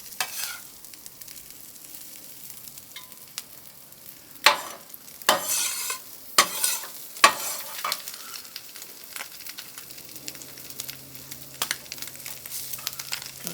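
Brisket, cream cheese and jalapeño sandwich stuffed with cilantro, peppers and onions heating on a flat griddle, giving a low steady sizzle broken by several loud scraping and pressing bursts from the spatula.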